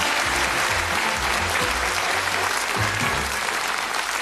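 Studio audience applause on a British TV game show, continuous loud clapping over low background music notes, sustained from start to finish.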